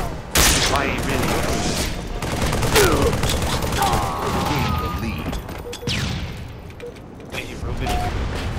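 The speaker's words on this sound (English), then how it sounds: "If you're shooting me, why are you shooting me?" Rapid bursts of gunfire crackle and boom around a player in an online battle royale video game, dense and continuous with intermittent louder shots and mechanical clatter, while a player talks over the action.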